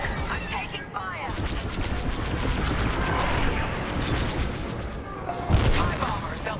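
Rapid blaster fire and booming impacts from starfighter combat in Star Wars: Squadrons, a dense, continuous volley with a sharp louder burst near the end.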